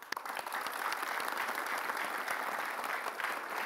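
A studio audience on a television talk show applauds to welcome a guest, with dense, even clapping that holds steady and fairly loud for several seconds and no voices on top.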